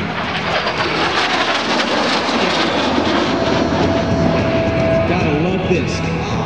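A Harrier jump jet passes at about 400 mph during an air show, a loud, sustained broadband roar filling the whole stretch with no break, with a faint announcer's voice audible underneath.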